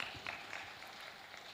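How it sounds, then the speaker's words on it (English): Round of applause from the audience at a live summit session, a faint distant patter of clapping that trails off quietly, with no voices on top. "Give him a good round of applause."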